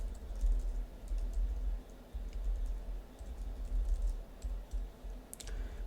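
Someone types on a computer keyboard while writing a page body in Notion, producing soft, rapid, irregular key clicks that are quiet and close, with no speech over them.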